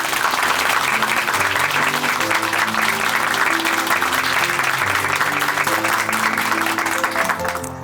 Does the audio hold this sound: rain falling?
no